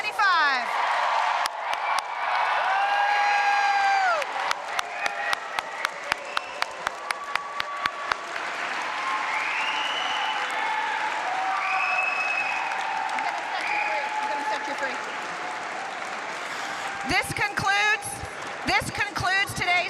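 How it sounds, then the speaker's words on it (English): A commencement crowd in a gym gives loud, raucous applause for the graduating class of 2025. Dense clapping carries the whole stretch, with bursts of whoops and cheers, a few sharp individual claps, and a voice speaking near the end. "Please join me in one more raucous round of applause for the class of 2025."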